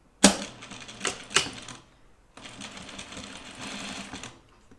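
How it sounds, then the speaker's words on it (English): A sewing machine stitches fabric for a small sewn guinea pig, opening with a few sharp mechanical clacks followed by a steady close whirring run of stitches that slows and stops. "I'm going to sew it a little bit more."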